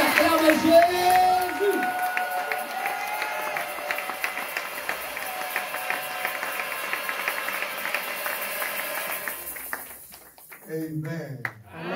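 Church congregation at a Sunday service cheering and applauding for Jesus, a steady broad wash of clapping and crowd noise with music behind it, fading near the end as a voice begins speaking.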